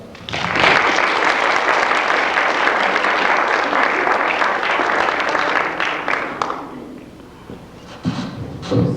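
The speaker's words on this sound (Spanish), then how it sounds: "Lo recibimos con un fuerte aplauso." An audience at a Querétaro public accountants' association event applauds to welcome a fiscal-planning speaker, with dense sustained clapping for about six seconds that then thins out into scattered claps.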